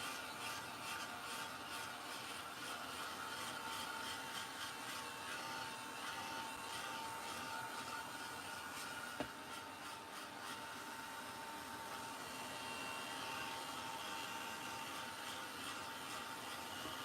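A heat tool blows steadily to quick-dry paint on a junk mail craft project, a constant whooshing hum running evenly throughout with a small tap near the middle.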